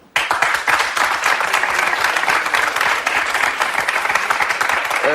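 A television studio audience bursts into loud, dense applause right after a brief silence, many hands clapping together at a steady level for about five seconds.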